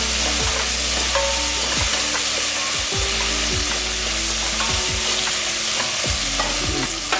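Red chili powder fries in hot oil for a parotta salna, giving a loud, steady broadband sizzle with repeated scraping stirs of a spoon against the pan. No one speaks.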